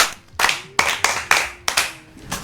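A handful of sharp hand claps ring out in an uneven rhythm at a children's storytelling gathering, each clap loud and close with short gaps between them and no voices over them.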